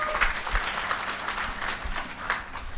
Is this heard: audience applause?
yes